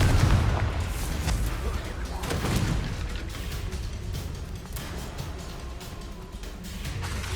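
Confringo and Bombarda spells explode in Hogwarts Legacy combat, a string of heavy booms and blasts following one another over several seconds amid ongoing battle noise.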